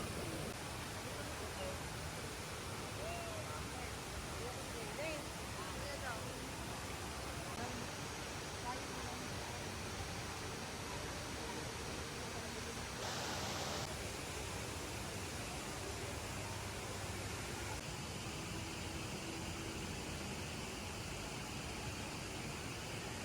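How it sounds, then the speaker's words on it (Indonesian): The large indoor waterfall at Jewel Changi Airport in Singapore roars as a broad, constant wash of falling water, steady and enveloping with no breaks. "Karena ya ada air terjun besar banget di dalam bandara."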